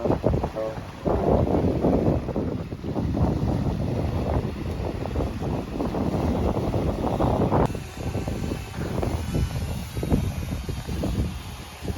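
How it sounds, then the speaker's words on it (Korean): Strong wind buffets a boat on a trip to Nokdo island, a steady roaring gust noise close on the microphone with water and engine rumble beneath, briefly dipping before rising again. "어왜 이렇게 바람 이 많이 부시는데?"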